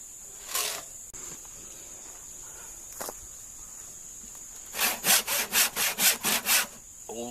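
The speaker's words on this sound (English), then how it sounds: "this is called a handsaw. You use your hand back and forth." Handsaw cutting old cedar lumber, a few scattered strokes at first, then a quick run of about eight rhythmic back-and-forth rasps, close and clear.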